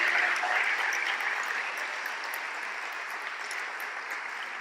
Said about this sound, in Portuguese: Pode aplaudir, Senhor Deus.